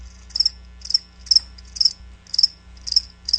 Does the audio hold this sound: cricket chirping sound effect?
yes